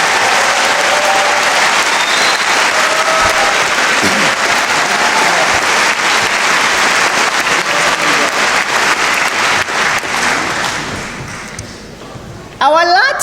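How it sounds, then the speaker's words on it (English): Graduates are applauded at a university graduation ceremony for the Faculty of Health, Education and Life Sciences, with sustained loud clapping from a large audience for over ten seconds before it tapers off. A voice comes in at the very end. "Let's give them a round of applause"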